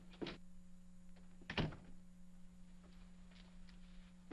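An office door in a 1949 film opens with a short thump and shuts again with a louder clunk about a second later, faint against a steady low hum, no voices.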